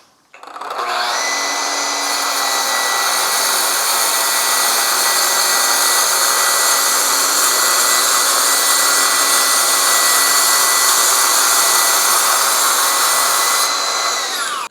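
A track saw with its scoring blade disengaged cuts through wood: the motor spins up, holds a loud, steady, high whine through the cut for most of the stretch, then winds down at the end, with no talking.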